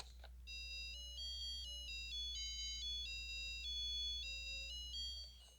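Chiptune melody from an LCD brick handheld game, played through its small speaker held near the microphone: bright, steady beeping tones stepping through a tune for about five seconds over a low constant hum.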